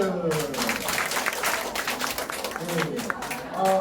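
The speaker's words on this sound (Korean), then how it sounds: "자 박수" A group of older adults in a dementia-prevention exercise class clap their hands together, a loose, moderately loud patter under an instructor's ongoing speech.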